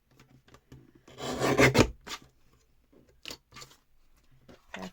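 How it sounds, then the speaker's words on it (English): A paper trimmer slices along the edge of a card in one raspy scraping pass lasting about a second, followed by a few quieter clicks and taps, with a little talking nearby. "Just going to bring in my trimmer, as I said, just to neaten up that edge a little bit."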